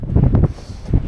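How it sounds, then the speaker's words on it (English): Strong wind gusting across an exposed volcanic ridge between Acatenango and Fuego in Guatemala, a loud, continuous low buffeting roar against the microphone with brief surges. "The wind's really picking up."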